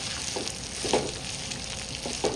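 Large cauliflower florets, with a little chopped carrot, sautéing in a pan: a continuous close sizzle with a few soft stirring scrapes, no voices.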